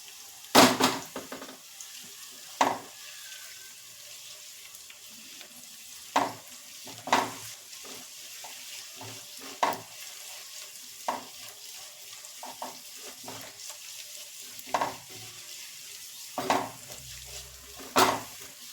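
Finely chopped cabbage and onion stir-fry in a pan for a chowmein made from leftover rotis, a soft sizzle under repeated sharp scrapes and clinks of a spatula against the metal, with no voices.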